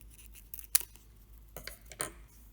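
Scissors snipping a small feather: a few faint, sharp cuts spaced irregularly in a quiet room.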